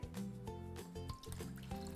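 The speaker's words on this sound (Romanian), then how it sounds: "În tava mai mare voi adăuga apa fierbinte," Hot water pours and trickles into a large metal baking tray, with gurgling splashes and a few soft clinks, close and fairly quiet.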